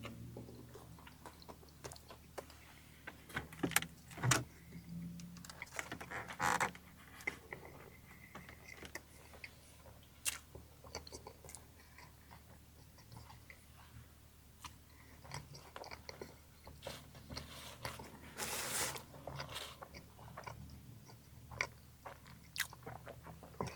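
Close, repeated biting and crunchy chewing of a McDonald's McVeggie burger, with soft wet mouth sounds and small crunches spread over a quiet background, no talking.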